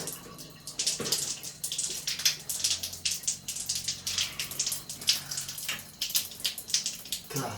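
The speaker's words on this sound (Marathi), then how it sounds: "हे बघा हे पाणी खाली यायला लागलेलं आहे" Water runs from the tap of a newly installed geyser, a close, steady splashing gush with uneven pulses as it pours down, with no talking.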